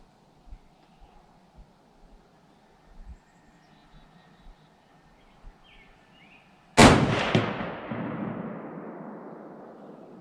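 A Ruger American .30-06 rifle fires surplus ammunition outdoors: one loud, sharp report with a long rolling echo, preceded by a few faint clicks and handling sounds.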